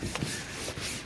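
A rag wiping down a sanded car body panel to clear away sanded paint dust and rust, giving close, continuous soft rubbing strokes with a couple of slightly firmer swipes and no talk.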